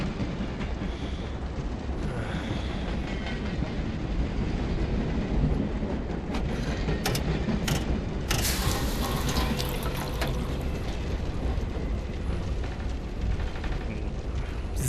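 A train rolls toward Berlin in the Wolfenstein video game, giving a constant loud rumble and rattle from inside the carriage, with a few sharp clanking bursts midway and no voices.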